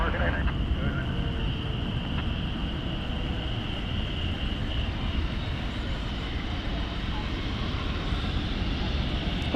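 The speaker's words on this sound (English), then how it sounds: "So Cathay is cleared for takeoff." Cathay Pacific airliner taking off at night at DFW Airport, a steady broad engine roar held throughout, loud and sustained with a faint tonal whine on top.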